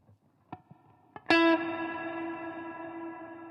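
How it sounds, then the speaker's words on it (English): Artist LP60 electric guitar played through a Tweedtone V amp and a small reverb pedal, a couple of soft plucks and then one loud chord that rings out in a long, shimmering, spacey wash, with no talking. "All right, so it's a lovely little reverb pedal."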